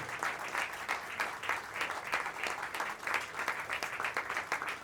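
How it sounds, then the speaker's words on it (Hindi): Steady, dense audience applause at a Delhi mushaira poetry gathering, a crowd clapping continuously and evenly for several seconds, moderately loud with no voices over it. "एक बार फिर आप इनके लिए तालियां बजा दीजिए।"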